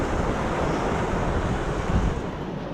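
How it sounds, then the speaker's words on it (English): Ocean surf on a shelling beach, with a loud continuous wash of breaking waves mixed with heavy wind buffeting the microphone and no voices. "see where the waves just break?"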